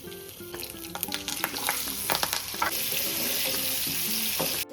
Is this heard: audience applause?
no